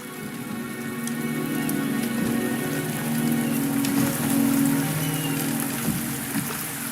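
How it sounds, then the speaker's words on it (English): Rain falls steadily in the video game Wuthering Waves, a dense even patter of drops on surfaces. It is moderately loud and continues throughout with no voices. "The rain is subsiding."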